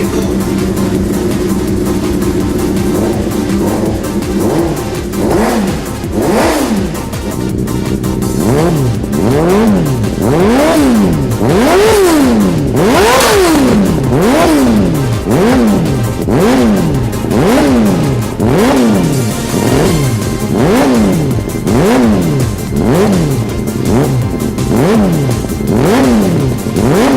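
An X-REV racing superbike engine revs again and again in quick rhythmic blips, each a sharp rise and fall in pitch, loud and sustained for nearly half a minute with no talking.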